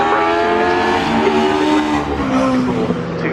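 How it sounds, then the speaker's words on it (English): Special saloon and modsports race cars circulating at Cadwell Park, a loud sustained engine drone with shifting pitch as cars pass, continuous throughout. "so all the cars back out and circulating"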